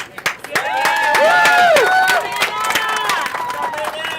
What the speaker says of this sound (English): them a round of applause